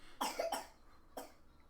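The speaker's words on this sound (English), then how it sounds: "You fake coughing?" Three quick coughs close by, two in a fast pair then a single one after a short pause, fairly quiet.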